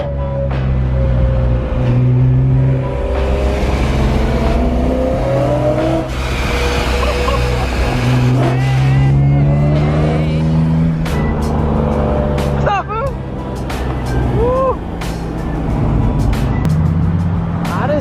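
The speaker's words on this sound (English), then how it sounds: "Bro, that supercharger sounds insane." A supercharged BMW M3 engine revs and climbs through gears with a rising whine, loud and close, while people talk and shout over it.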